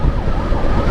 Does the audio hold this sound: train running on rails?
no